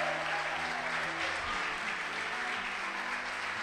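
Congregation applause at a church gathering with a pastor preaching, a fairly quiet, continuous wash of clapping with a low background hum and no clear speech.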